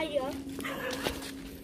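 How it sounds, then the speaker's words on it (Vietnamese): Dog heard outdoors on a hillside orange orchard, giving a few soft yips and whimpering bark-like calls at a distance, under a person talking. "Có con chó ai vậy?"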